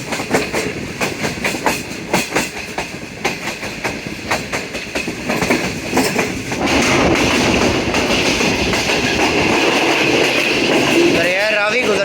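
Shalimar Express passenger train running on the tracks, heard from onboard with rhythmic clickety-clack of wheels over rail joints and continuous rumble that grows denser and louder partway through, with no talk.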